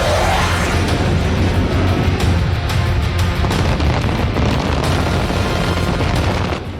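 Loud, dense blasts from cluster bomb strikes in the Russia–Ukraine war, a continuous rumbling barrage of booms and crackling bursts that runs unbroken with no voices.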